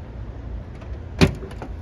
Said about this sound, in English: I'll open up the back for you, give you a good look inside.